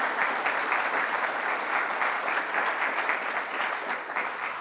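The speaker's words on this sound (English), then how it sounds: "I'm hearing people clapping" Audience at an autumn awards ceremony applauds supporters, a continuous even roar of many hands clapping, moderately distant and steady for several seconds with no voices over it.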